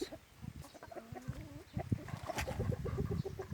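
A rooster and chickens in a home garden cluck repeatedly, hungry for feed, with several overlapping calls close by and a brief rising call early on, over light background noise.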